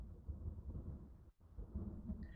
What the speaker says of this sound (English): loving hearing thunder going through that